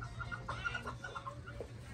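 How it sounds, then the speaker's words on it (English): Roosters fighting in a backyard coop give off a flurry of clucks and squawks, fairly faint and somewhat distant, with irregular bursts over a low steady background hum. "Roosters are fighting."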